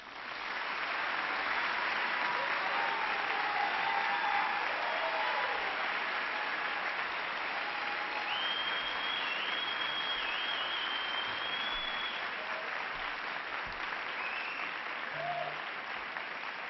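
A packed auditorium audience at a US Senate debate claps steadily and warmly to welcome the candidates, a dense wash of applause sustained at even loudness for the whole stretch, with a few faint voices mixed in.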